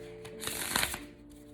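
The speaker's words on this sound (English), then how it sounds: "I'm having a bit of a problem shuffling my cards" Tarot cards are shuffled in a short, close riffle-like burst of papery flicks lasting about half a second, quiet and alone.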